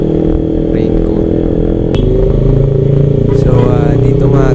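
Steady roar of motorcycle traffic on a city road beside a dedicated motorcycle lane, engines droning continuously with a sharp clank near the middle and rising revs toward the end.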